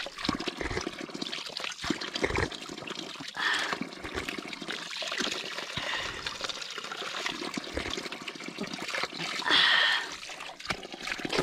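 Water poured and splashed by hand to wash a face at a roadside water spot, close irregular trickling and splattering with several louder pours, no talking.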